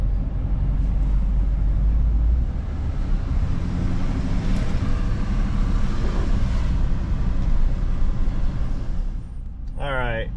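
A medium duty Duramax truck driving, a loud, steady low engine and road rumble heard from inside the cab that carries on throughout, with a short squeaky sound at the very end.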